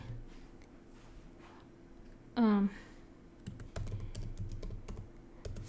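Someone types on a computer keyboard, entering an SQL query, with scattered light key clicks close by that become a denser run of taps toward the end, around a short burst of a voice.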